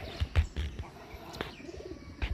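Racing homer pigeons coo in a loft, low soft rumbling calls repeating in short bursts, with a rising-falling warble near the end, fairly close and moderately loud with no talk.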